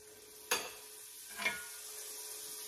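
A pat of butter hits a hot pan for French toast, a sharp hiss followed by a second smaller burst, then a faint steady sizzle underneath.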